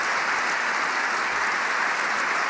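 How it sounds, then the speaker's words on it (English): Applause in a large chamber during the State of the Union address, a steady, dense wash of clapping that holds at an even level for the whole stretch with no voices standing out. "We have to clap."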